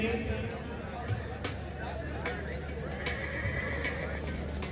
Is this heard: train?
no